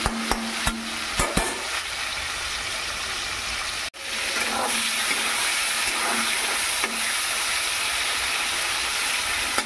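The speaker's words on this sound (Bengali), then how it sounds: "টমেটোগুলো একটু ভাজা হয়ে গেছে।" Tomatoes fry in a pan for chhana kofta curry, a continuous loud hiss and sizzle. A few scraping knocks of stirring come early, then a brief break, and the sizzle resumes steadily.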